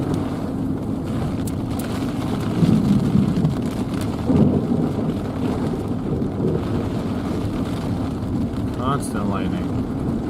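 Thunderstorm in far southeast Arizona with steady rain and wind buffeting close by, low rumbles of thunder swelling a few times over the constant wash of rainfall.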